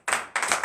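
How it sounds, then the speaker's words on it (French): A church congregation at a morning prayer service in Benin claps together in two short bursts of applause, close and crisp, with a brief gap between them. "Donnez encore l'acclamation"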